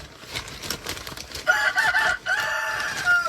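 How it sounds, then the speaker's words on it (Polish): Several hens clucking and squawking nearby in a chicken coop as sawdust is poured in, with a mix of short clucks and longer, agitated calls overlapping. "Kury się już stresują."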